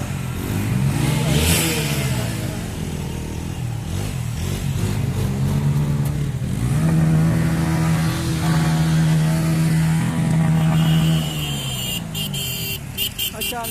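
A motorcycle engine rumbling and revving at a village Bara Ghat festival, steady and fairly close, with pitch rising and falling through several revs while people talk nearby.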